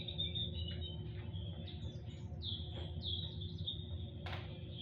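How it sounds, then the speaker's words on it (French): Small birds chirp and tweet in a scattered series of short, high calls, fairly faint, over a steady low background hum with no talking. "C'était les petits oiseaux pour avoir un fond sonore?"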